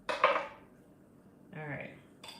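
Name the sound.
knife slicing tomato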